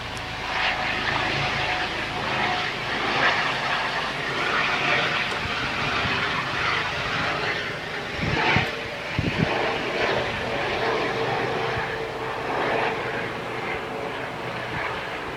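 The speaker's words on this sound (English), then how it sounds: "our helicopter is going off into the distance" A police helicopter moves off overhead, its continuous engine and rotor drone holding steady and loud throughout, with a couple of brief knocks partway through.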